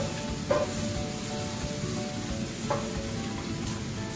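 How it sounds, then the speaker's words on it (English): Onion sautéing in a pan with lamb until golden and crispy, a steady close sizzle and crackle with a couple of brief stirring clinks, no talking. "The onion is getting sauteed and it's turning golden and crispy."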